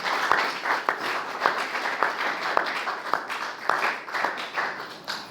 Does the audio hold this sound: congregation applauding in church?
yes